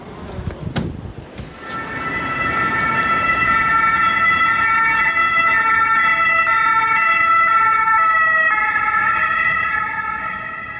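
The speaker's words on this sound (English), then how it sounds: "siren sound is exactly Paris and not anything like we hear in America." On a Paris street, an emergency vehicle siren rings out in the two-tone European pattern, loud and sustained after a brief thump and some street noise, with no talking.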